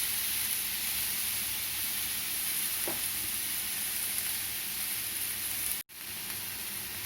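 Crispy onion dosa frying on a hot pan, a steady close sizzle and hiss throughout with a brief sharp cut near the end.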